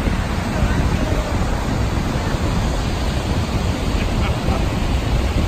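A waterfall on a trail heading toward the Appalachian Trail roars in a steady, loud broadband rush of falling water that fills the scene without pause.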